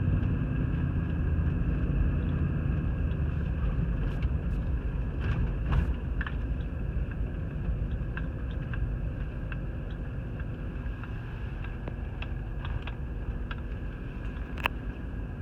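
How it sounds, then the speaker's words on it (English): Car driving slowly through a residential neighborhood in Burlington, Vermont, with a steady, continuous road and engine rumble from inside the vehicle and occasional small ticks and bumps throughout. "Alright, driving through the neighborhood now."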